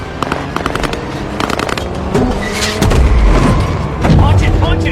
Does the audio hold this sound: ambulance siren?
no